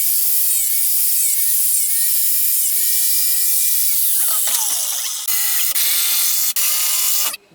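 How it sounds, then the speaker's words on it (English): A grinder bites into screws poking up through plasterboard in a loft conversion, a loud high-pitched whine with short cutting bursts, then a few quick stop-start pulses at the end. "we've got a few more screws sticking up through the plasterboard below, which is going to hit the joist, so we just got to grind those down again"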